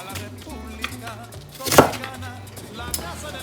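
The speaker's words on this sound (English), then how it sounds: "like to put the onions in big chunks." Onions are chopped into big chunks for street tacos, with a knife striking a board once loudly at close range among soft kitchen noise and a low hum.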